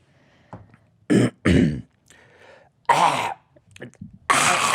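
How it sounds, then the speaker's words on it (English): A person clears their throat several times in short, harsh, rasping bursts, close up, with quiet pauses between them. "Clear your throat. I'm trying."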